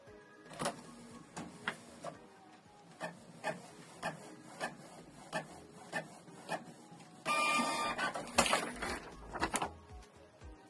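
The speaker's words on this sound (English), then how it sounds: "Select print test page." A Canon Pixma G650 inkjet printer printing a test page: a steady series of close mechanical clicks and ticks, followed by a louder whirring feed and rasping movement near the end.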